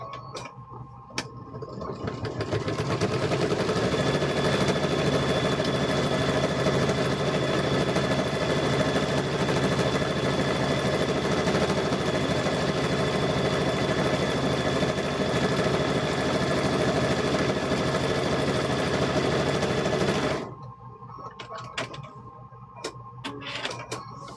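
A sewing machine stitches across the top of a quilted handbag, starting after a couple of seconds and running as a steady, loud mechanical whir for about eighteen seconds before stopping abruptly, leaving quiet handling noises.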